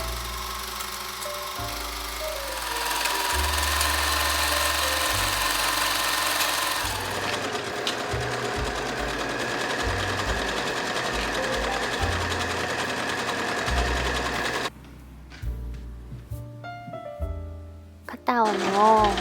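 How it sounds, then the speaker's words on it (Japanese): A sewing machine stitching the back centre seam of a garment remade from patchwork fabric scraps: a long, loud, rapid mechanical whir that breaks into short stop-start bursts toward the end. "後ろ身ごろの背中心を縫おう。"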